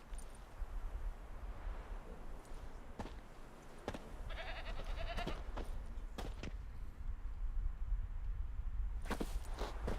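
A goat tied to a stake as forktail bait in The Witcher 3 bleats a few times amid outdoor ambience, with short clicks and footsteps scattered around it.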